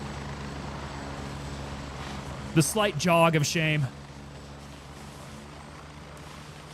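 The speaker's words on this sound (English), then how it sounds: "Ah, that helicopter's loud." Helicopter in the video game Gray Zone Warfare drones steadily overhead with a constant rotor hum, while someone speaks briefly over it.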